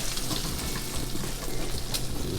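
Bacon frying in a pan, a steady dense sizzle and crackle that carries on without pause, close and moderately loud, with no voices over it.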